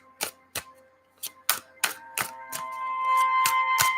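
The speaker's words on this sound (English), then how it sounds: "The sound of the shuffle." Tarot cards shuffled on an ASMR late-night radio show: separate crisp riffling snaps near the mic, speeding into a steadier run of faster card flutters toward the end, with no talking.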